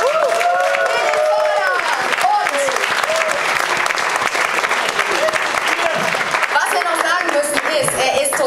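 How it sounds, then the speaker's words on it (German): An audience at a Munich food slam event applauds a young local brewer, with dense, steady clapping close by, a few cheers, and voices mixed in throughout. "Und einen dicken Applaus für Philipp"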